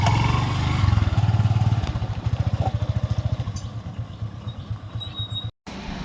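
A motorcycle engine runs with a steady, rhythmic throb on a dense forest track near Pavagadh during the monsoon, loud and close for most of the clip, then easing slightly, with a brief dropout near the end.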